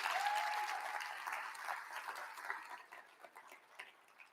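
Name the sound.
audience applause at a keynote session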